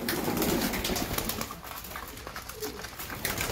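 Pigeons coo softly in the background while feeding, as a steady rustling, wind-like noise fills the space outdoors.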